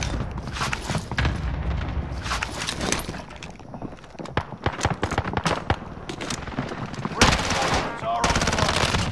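In the video game Warzone, loud, close gunfire rattles in rapid bursts and single shots over dense game noise, with a few shouted voices mixed in.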